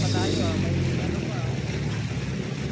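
A boat's engine idling low and steady as it slows near rock formations off Caramoan, Camarines Sur, a continuous rumbling drone with people talking over it throughout.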